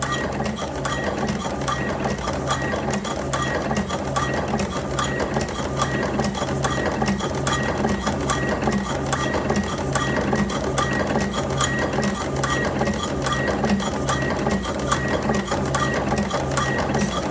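Electric automatic cigarette rolling machine running continuously with a dense, steady mechanical clatter and rapid rhythmic ticking, close and unchanging throughout.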